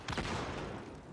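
Turret gunfire in Halo: Master Chief Collection on the Shrine map, a short, quiet, dense burst of rapid shots with no talking.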